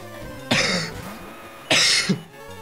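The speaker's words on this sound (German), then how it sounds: "Man mag es an meinem Husten noch hören" Two harsh, loud coughs from a sick man, close to the microphone, separated by a short pause, with no other sound around them.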